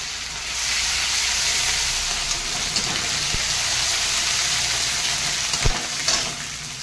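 Cumin, dried chilli, curry leaves and garlic sizzle in hot oil in a pan, making a steady, bright hiss with a few soft pops and crackles, alone and close.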